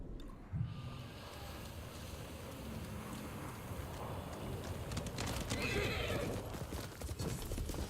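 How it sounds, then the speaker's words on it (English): Horse hooves clip-clop at a gallop and a horse neighs in the video game Ghost of Tsushima, with wind and movement sounds under the steady hoofbeats. "Get on the horse."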